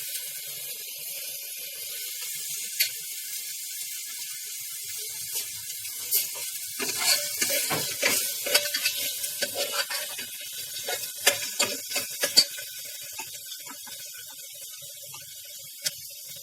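Turnips with ginger garlic paste cook in a pan, a soft steady sizzle broken by scattered scraping and stirring clicks from a utensil, clustered in the middle and growing sparse toward the end.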